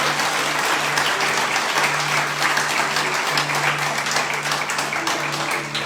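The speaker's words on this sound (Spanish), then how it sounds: "Un fuerte aplauso al Señor." Church congregation applauding in praise, a dense, steady wash of clapping that holds at even loudness throughout, with a low sustained organ or keyboard tone running underneath.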